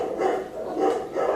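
Several dogs reacting to a squeaky toy, with a few short, close bursts of barking or yipping in an uneven rhythm; a distinct squeak is hard to pick out.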